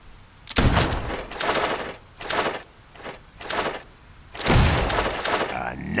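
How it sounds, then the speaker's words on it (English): Gunshots at a shooting gallery in Fable II, with several shots in quick sequence, a brief pause, then another heavy blast, mixed with game sound and spoken voice. "You've made it to the final round. Start shooting."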